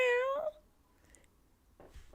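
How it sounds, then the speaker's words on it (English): A female cat meows in her sleep: one short, rising, tonal meow close to the microphone, then quiet with faint soft sounds. "is meowing in her sleep"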